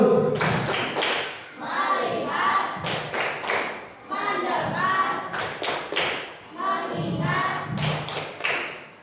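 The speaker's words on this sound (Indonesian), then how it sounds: "Tepuk fokus." A classroom of children doing a rhythmic 'tepuk fokus' clapping chant, sharp clustered clap bursts alternating with sung chanting voices and a teacher speaking, close and lively.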